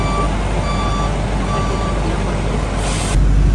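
An airport apron bus at Velana airport in the Maldives idles with a steady low diesel rumble beneath continuous high reversing beeps, ending in a sharp hiss of released air brakes.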